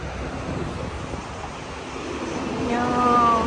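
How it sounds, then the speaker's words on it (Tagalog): Wind blows steadily outdoors on a trip toward a cruise ship in Hong Kong, a broad rushing noise that swells louder near the end, with a voice briefly rising above it. "Yung hangin."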